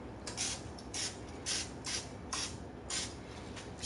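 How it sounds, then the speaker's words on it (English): Cooking spray from an aerosol can misted into a small muffin pan in short hissing bursts, about six evenly spaced sprays, close and fairly loud. "I'm gonna have a little bit of spray."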